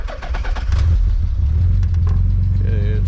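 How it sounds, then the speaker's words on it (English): A twin-turbo Nissan 300ZX under diagnosis fires up loudly with a quick rising rev, then settles into a steady, low, rumbling idle close by. No one speaks. "Okay, it starts and idles, so that's good."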